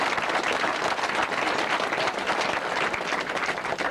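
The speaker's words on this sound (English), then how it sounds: "so I'd like to give yourselves a round of applause there" Dense crowd applause at a 2002 cup final, steady and close clapping filling the whole stretch without letting up.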